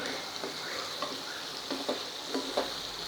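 Chopped dill greens (shepu) are stirred through hot oil in a pan, a steady close sizzle broken by a few soft scraping strokes of the spoon at a loose, uneven rhythm.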